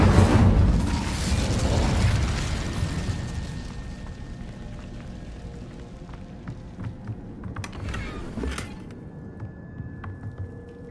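An Incendio fire spell cast in Hogwarts Legacy opens with a loud whooshing burst of flame that fades over several seconds, followed by quieter crackles and a few sharp pops.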